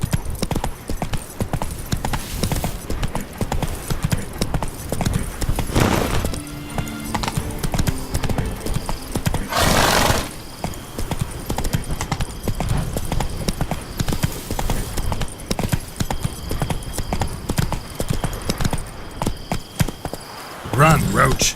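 Rapid hooves clip-clop from a horse galloping in The Witcher 3 video game, a busy, loud rhythm with a brief snort or whinny, while a voice speaks over it.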